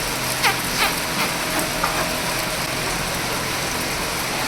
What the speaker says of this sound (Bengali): বৃষ্টি হচ্ছে বৃষ্টি